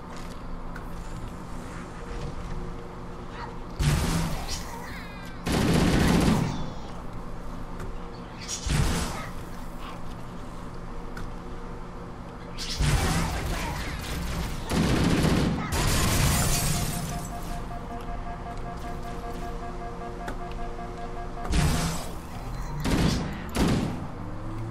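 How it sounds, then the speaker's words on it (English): Gunfire in Halo, scattered bursts and single shots fired in clusters with pauses between, mixed with game noise and mid-loud throughout. "I'm shooting at everything but what's living."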